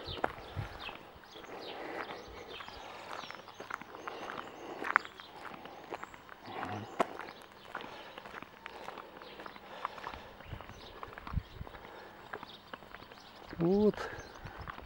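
Footsteps crunch steadily along a path leading down to the sea at Bakalskaya Spit in Stereguschee, Crimea, close and continuous, with soft outdoor background noise and a brief murmur of a voice near the end.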